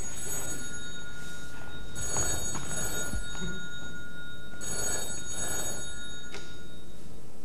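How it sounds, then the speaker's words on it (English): An old-style telephone bell rings in several short bursts with pauses between them, heard clearly and alone during a 1994 stage show, with no talking over it. "the phone finally rang."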